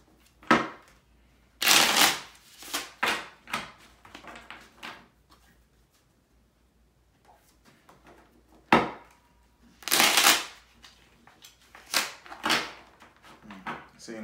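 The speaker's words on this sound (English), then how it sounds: "Let me get the cards a little more shuffle while you're on the phone." Tarot cards being shuffled by hand, in bursts of crisp riffling and papery slides separated by quiet pauses, close to the listener.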